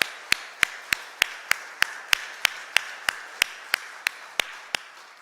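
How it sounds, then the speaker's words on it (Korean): A church congregation at a Sunday service claps in steady unison for the choir and string ensemble, sharp even claps at about three per second, with no talking. "우리 찬양대와 현악반에서 격려의 박수 주십시오."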